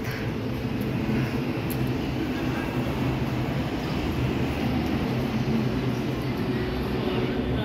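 A steady low rumble of a train at Taichung station at night, continuous and fairly loud with a constant rolling drone and no clear breaks.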